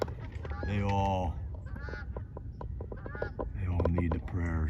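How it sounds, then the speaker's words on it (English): A couple of geese honk in repeated bursts, fairly loud and close, with some faint background talk between calls. "There's a couple of geese."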